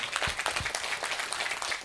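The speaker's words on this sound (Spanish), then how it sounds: "dale un fuerte aplauso a Dios Todopoderoso" A church congregation at a Nazarene service claps together in a brief burst of applause, a dense, even patter of many hands heard up close.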